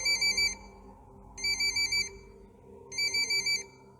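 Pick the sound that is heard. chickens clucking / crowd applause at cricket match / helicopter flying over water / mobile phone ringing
mobile phone ringing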